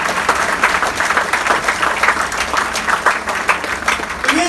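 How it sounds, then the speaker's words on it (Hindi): An audience claps steadily and fairly loudly throughout at a company project launch, a dense, continuous burst of many hands with no pause. "जो नॉन टीम हेड्स है, जोर से ताली बजाइए"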